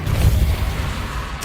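Confringo and Depulso spells are cast in the Hogwarts Legacy video game, giving low, rumbling blasts like distant artillery, followed at the very end by a quick, sharp crack.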